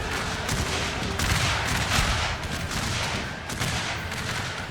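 Musket volley fire in Total War: Shogun 2's American Civil War battle: dense, continuous crackling gunfire with repeated surges of massed shots, loud and unbroken throughout with no pauses.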